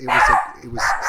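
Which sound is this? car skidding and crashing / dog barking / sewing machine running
dog barking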